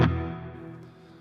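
Reverb pedal on the CKK Infinite Reverb with pre-delay at its shortest setting: a single struck sound blooms instantly into a short, fairly small decaying tail, heard alone with no talking.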